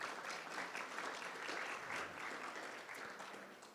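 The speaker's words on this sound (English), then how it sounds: "So big round of applause for all of our volunteers." A graduation audience at a guide dog school applauds the volunteers, a broad, even wash of clapping that fills the room and slowly thins toward the end, heard at a low, distant level.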